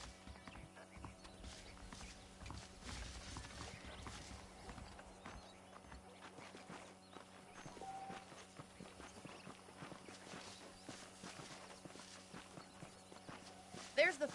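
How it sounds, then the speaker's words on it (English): Horse hooves clip-clop at a walking pace in the Western video game Red Dead Redemption, a steady, faint run of hoofbeats across a quiet in-game scene. "The horses are saddled up over here."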